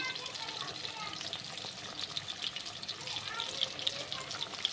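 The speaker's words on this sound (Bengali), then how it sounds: "এদিকে তেল গরম হয়ে গেছে, এদিকে কড়াইতে মাছ দিয়ে দিয়েছি।" Fish sizzles in hot oil in a wok with a continuous, fairly quiet crackle and small bursts of popping.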